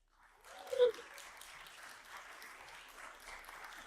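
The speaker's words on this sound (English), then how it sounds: "Keep your applause going" Applause from an audience at a coffee festival talk on coffee extraction: a fairly faint, steady patter of clapping that swells briefly early on and then carries on evenly.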